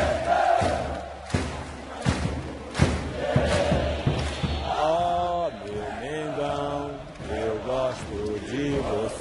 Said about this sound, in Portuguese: A torcida então cantou como nunca.